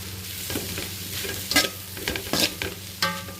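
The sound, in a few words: stirring vegetable fried rice mixture in a pan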